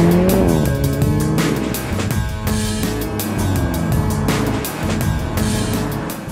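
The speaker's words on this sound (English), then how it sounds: "the roar of the engine" An Alfa Romeo 4C sports car engine roars and revs hard, pitch sweeping up and down through gear changes, loud and close with tire noise.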